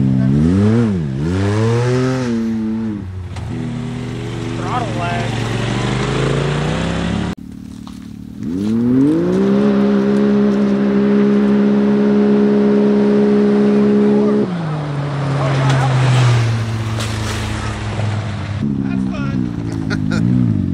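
Polaris RZR RS1 off-road vehicle engine revving hard through rising and falling pitch sweeps, then holding a steady high drone before dropping off, loud and close with voices talking over it.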